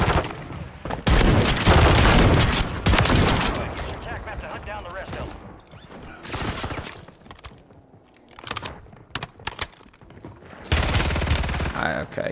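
Heavy gunfire in Warzone 3 on Rebirth Island as a whole lobby shoots at one player: loud rapid bursts and automatic fire in clustered volleys with gaps between them, punchy close shots over a player's occasional talk.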